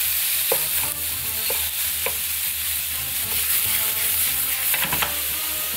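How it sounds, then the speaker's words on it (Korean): Rice cakes and thick beef chuck flap fry in a pan, bought from a convenience store for chop steak, with a steady bright sizzle and occasional stirring scrapes and taps of a utensil, no talking. "그래가지고 떡을 볶아줍니다. 부채살. 부채살이 두꺼우니까 부채살 먼저."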